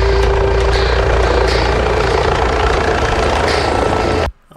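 A helicopter's loud, throbbing rotor and engine roar fills the scene continuously, close by, before cutting off abruptly.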